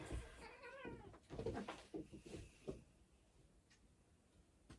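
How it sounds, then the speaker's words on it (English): Cats scrapping in the background, squalling and yowling in a few brief bursts over the first three seconds, fairly faint and distant, then a quiet room. "To apologise if you can hear the noise of cats scrapping in the background."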